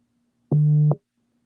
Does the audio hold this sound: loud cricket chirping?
no